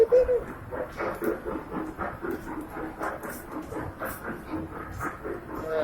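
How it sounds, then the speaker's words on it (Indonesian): A small ride-on train rolls along inside a shopping mall, a soft, continuous rumble with faint clicking beneath busy indoor crowd chatter and children's voices. "Naik kereta api di mall."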